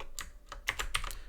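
Quick, light keystrokes on a computer keyboard, several close taps in an uneven burst against a quiet background, with no speech.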